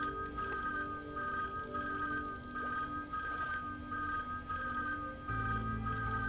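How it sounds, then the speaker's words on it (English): A telephone rings in repeated trilling bursts at a steady rhythm against a low, constant background hum, with no talk. "Suddenly, an annoying phone ringing."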